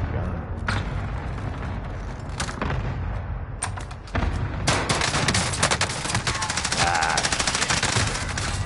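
Automatic gunfire from the video game Warzone, rapid bursts of shots growing denser and louder in the second half, with a brief spoken exclamation over it.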